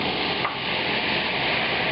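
Stock poured into a hot pan while making Steak Diane gives a steady, close hiss of sizzling that holds evenly for the whole moment, with no voices.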